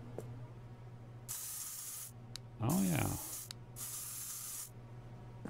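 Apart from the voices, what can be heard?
spray paint hissing in video game SuchArt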